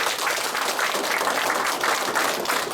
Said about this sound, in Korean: 뜨거운 박수를 부탁드립니다